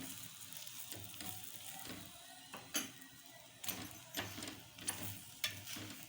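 A cauliflower paratha roasts with oil on a hot pan while being pressed down, a faint low sizzle broken by a series of sharp scraping and tapping knocks at irregular intervals.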